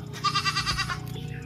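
A single goat bleats close by, a short wavering cry over faint background noise.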